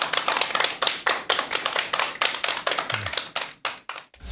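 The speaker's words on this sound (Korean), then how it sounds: "큰 박수 네, 부탁드립니다" Audience applause greeting a lecturer before a talk on death studies, a small crowd clapping in distinct rhythmic bursts, fairly close and even, tapering off toward the end.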